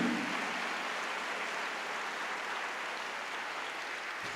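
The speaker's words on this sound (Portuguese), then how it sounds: "Aplauda forte ao Senhor Jesus por isso." A church congregation applauds in a sustained, even wash of clapping that fades slightly toward the end, with no voices standing out.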